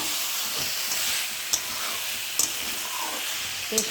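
Food is stirred in a hot pan for a Bengali dish of tomato, potato, bori and egg, with a steady sizzling hiss and a few sharp scrapes and taps of the spoon against the pan.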